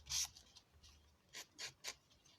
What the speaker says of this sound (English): I'm just sanding the little pips off because you can see them otherwise